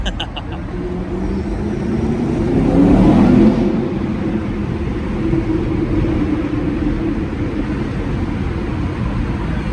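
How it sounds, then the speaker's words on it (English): The engine of a 2019 Camaro SS revs inside a tunnel, swelling to a loud, rumbling peak around three seconds and then settling into a steady drone that echoes off the walls. "This tunnel is a little soundproofing, so you get to hear the true noises of your car"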